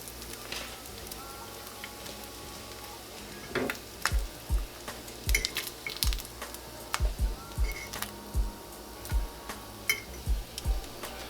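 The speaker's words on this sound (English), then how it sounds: "Just brown your bacon up. We want it crispy" Bacon browning to a crisp in a pan for homemade hamburger helper, a steady soft sizzle under repeated sharp clicks and scrapes of stirring, fairly close and moderate in level.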